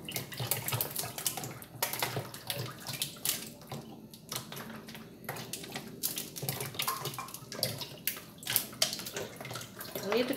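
One litre of oil pours into a lye mixture for making soap, a soft, continuous liquid trickle and splash that rises and falls slightly, heard up close without talk.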